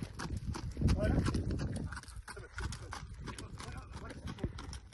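Horse hooves thud during a riding training session, a busy uneven clip-clop heard close up while someone talks over it almost throughout.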